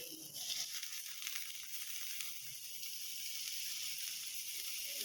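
Soy sauce goes into a pan of egg and vegetable fried rice with cabbage, giving a steady, soft sizzle and hiss that runs without a break.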